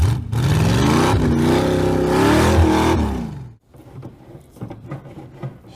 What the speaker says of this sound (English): This is the first time a Corvette's ever climbed a mountain.